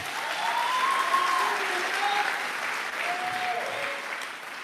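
Crowd applause at a church gathering, sustained steady clapping from many hands throughout, fairly soft and distant, with faint voices calling out beneath it.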